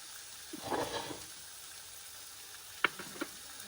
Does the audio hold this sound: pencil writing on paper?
no